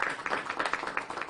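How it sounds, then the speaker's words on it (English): A small audience claps hands together in a quick, uneven patter, moderately faint and fairly close, with no other sound standing out. "Clap your hands."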